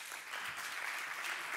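A crowd of listeners at a lightning talks event claps together, a dense, steady wash of applause lasting the whole moment without voices on top.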